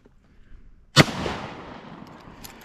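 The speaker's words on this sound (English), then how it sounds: "now I will use a different cartridge, like this, and I will shoot" A single loud blast from a Benelli SuperNova Tactical 12-gauge pump shotgun at an outdoor range, one sharp crack followed by a decaying echo and quiet afterward.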